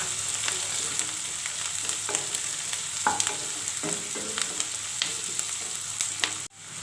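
Onion, curry leaves and slit green chilies sizzle steadily in a frying pan while being stirred, with soft scraping strokes and light spatter close by, no talking.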